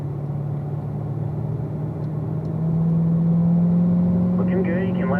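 A racing car's engine drones steadily down the straightaway, then swells louder and shifts tone as the driver brakes in a straight line and drops a gear, with a voice talking over the engine throughout.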